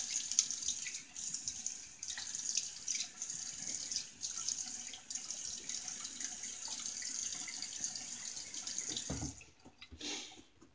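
A tap runs steadily into a sink as a face is rinsed after a shave, a continuous close hiss of water broken by small splashes, cutting off near the end.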